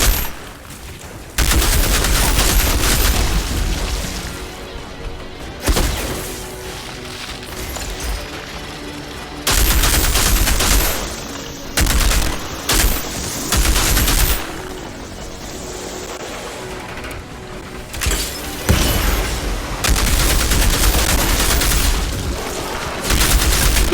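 Automatic turret firing on enemies in the video game Outriders, heavy rapid gunfire in loud sustained bursts with short gaps, dense and close, mixed with booming impacts.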